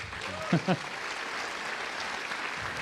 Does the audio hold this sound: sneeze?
no